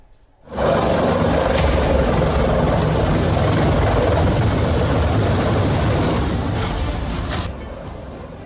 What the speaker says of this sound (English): उत्तरकाशी के आसमान में मंडरा रहे सेना के चिनूक हेलीकॉप्टर और MI-17 हेलीकॉप्टर।